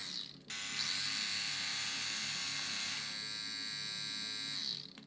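A Bishop Wand tattoo liner machine powered by a B Charged battery runs close up, a loud, steady, buzzing mechanical rattle that starts abruptly, holds constant for several seconds, and winds down near the end, with no talking.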